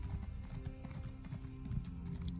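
Horse hooves clip-clop steadily in Elder Scrolls Online, a continuous rhythmic trot at moderate volume over a low game ambience.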